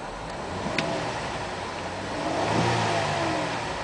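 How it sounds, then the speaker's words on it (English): A 2008 Buick Enclave CXL with a 3.6 liter V6 revs up from idle, its roar swelling steadily and then holding loud and close before easing off slightly, with no voices. "I'm going to rev the engine."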